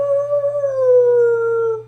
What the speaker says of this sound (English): Spot goes, actual howl.